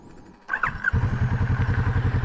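A motorcycle engine cranks and catches, then settles into a steady, close, pulsing idle with a regular low thump, with the rider sitting on it in full gear under a hot sun.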